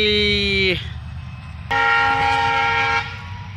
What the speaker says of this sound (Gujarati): અત્યારે ટ્રેન આવી છે અહીંયા દેખાય હોય તમે થોડુંક ઝૂમ કરીને બતાવું અમારા ટ્રેનનો પાટો અહીં માલગાડી નીકળી માલગાડી